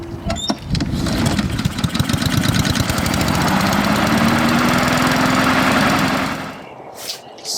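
A Honda HRR2169VKA lawn mower engine catches and runs at a steady, loud, close drone for several seconds, then cuts out into near silence.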